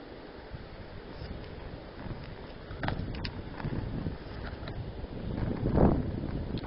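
Strong wind blows outdoors at a campfire site, making a steady broadband rush with gusting buffets that swell louder toward the end, close and fairly loud, with no talking.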